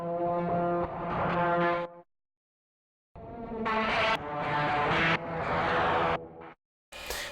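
Guitar run through effects, recorded to cassette, then comped and chopped: sustained wobbly, harmonic-rich phrases swell and cut off abruptly, separated by dead silences, with no voices.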